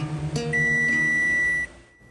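Kitchen oven timer going off after a sourdough loaf bakes, one sustained bright electronic beep lasting about a second, close and clear over a faint room hum before cutting off.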